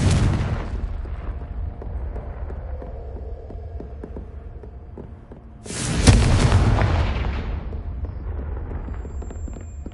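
Confringo explosive spell in Hogwarts Legacy, two heavy booming blasts, one at the start and a louder burst midway, each followed by a long rumbling decay with low throbbing underneath.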